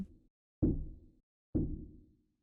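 Dry rim shot drum sample with no reverb, heard as two sharp, clean knocks spaced about a second apart after a faint earlier tail, each decaying quickly into silence.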